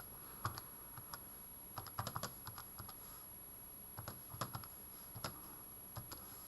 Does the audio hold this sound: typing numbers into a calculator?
yes